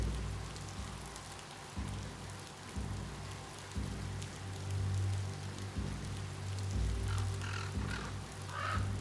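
Rain pattering steadily in the video game Biomutant, a soft continuous hiss of drops over low rumbling ambience, with faint bird caws now and then; no speech.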